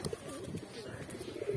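Pigeons coo softly near and far as they gather to peck at dried grain set out for them, the murmuring calls overlapping in a continuous low burble under faint background noise.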